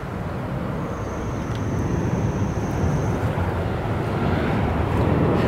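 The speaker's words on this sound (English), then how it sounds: "We're going to be hearing airplanes pretty much all day." A low, rumbling jet engine drone fills the air, slowly swelling in loudness as a plane passes overhead near an airport, with faint wind noise and no talking.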